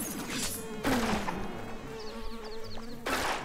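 Buzzing bees in the Secrets of Grindea video game drone loudly and steadily alongside game music and chiming effects, with bursts of spell impacts.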